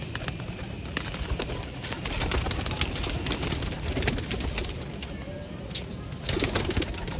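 Pigeons coo softly nearby over a low background hum, with bursts of wing flapping scattered through the clip.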